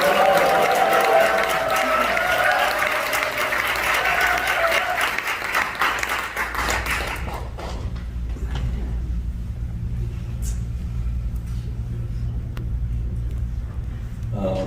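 Loud applause and cheering from a church seminar crowd welcoming a pastor fills the first half, then fades into a low rumbling murmur.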